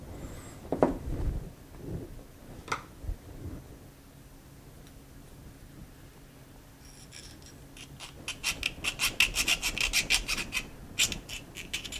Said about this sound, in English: So let's try the filing first